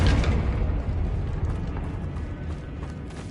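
A Confringo fire spell explodes in Hogwarts Legacy, a heavy rumbling blast that starts loud and slowly fades over a few seconds, with crackling debris-like texture and no talking.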